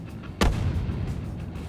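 A mortar bomb in Garry's Mod explodes in a single sharp crack, then a low rumble trails off beneath steady background noise.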